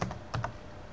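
A few quick clicks of a computer keyboard, close and brief, then quiet with no voice.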